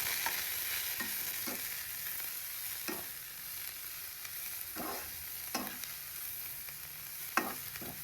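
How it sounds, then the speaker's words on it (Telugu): Noodles with carrot and capsicum are stirred in a pan, a quiet steady sizzle broken by a series of soft scraping strokes of a spatula at irregular intervals. "ఒకసారి కలుపుకుందాం."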